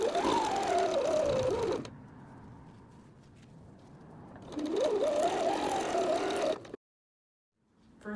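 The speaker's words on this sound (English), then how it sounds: "we can start sewing row by row" A sewing machine stitches squares together with a quarter-inch seam in two steady motor runs, loud and close, separated by a short pause and followed by silence.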